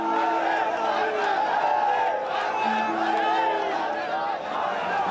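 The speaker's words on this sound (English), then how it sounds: "Ecstatic crowds of BJP supporters started to celebrate the election win before it was official." Ecstatic crowd of BJP supporters celebrating an election win, a dense, loud, continuous roar of many voices with cheering and chanting throughout, mostly steady with a brief dip near the end.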